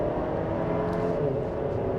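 A 2025 Buick Enclave Preferred accelerates up a highway entrance ramp, its engine and road noise forming a steady, moderately quiet hum heard from inside the cabin, with no talk.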